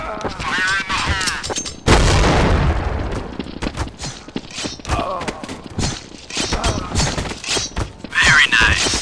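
A grenade explodes in a Counter-Strike: Source match with bots, a sudden loud blast that booms and fades, followed by more game sounds and voices.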